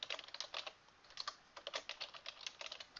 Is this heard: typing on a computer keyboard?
yes